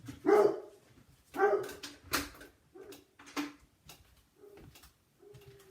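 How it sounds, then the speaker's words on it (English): A big dog barks loudly, several deep, booming barks in irregular bursts close by, with short pauses between them and a few softer woofs near the end. "we have a big dog"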